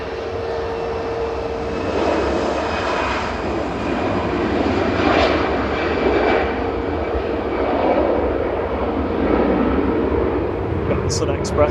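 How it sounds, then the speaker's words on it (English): An EasyJet Airbus A320 Classic departs Manchester Airport for Pisa, its jet roar swelling and easing in waves, with people talking over the engine noise. "EasyJet to Pisa departing now, flight 2129, EZUF operating this flight"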